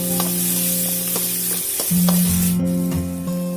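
Sliced yam frying in hot oil, with ginger garlic paste being stirred in for a Tamil yam fry, gives a steady loud sizzle. Utensil scrapes and stirs break in now and then.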